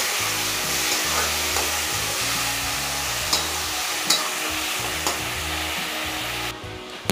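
Finely chopped tomatoes being stirred into frying baingan bharta, a loud continuous sizzle beneath a low steady hum, with occasional spatula clicks and the frying cutting out right at the end.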